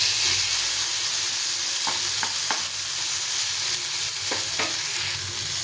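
Garlic cloves and tomato frying in a home cooking pan give a steady, close sizzle with a few soft stirring scrapes and taps, and no voices.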